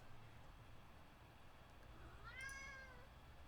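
Domestic cat meowing once, a short rising-and-falling meow toward the end over a quiet room background.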